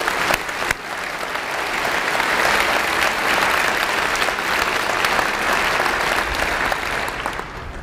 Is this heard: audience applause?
yes